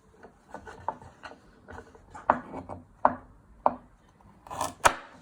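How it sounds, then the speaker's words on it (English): A knife cuts through a peeled turnip on a board, a handful of faint scraping strokes and soft thuds spaced unevenly, ending with a couple of sharper cuts, no talking. "when you have peeled your turnips, you chop it in half. You cut it down the middle"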